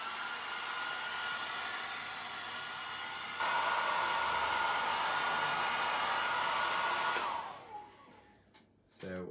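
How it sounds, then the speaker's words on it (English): A hair dryer blows steadily up close, growing louder partway through before switching off near the end. "take my hairdryer and just give this a quick blast"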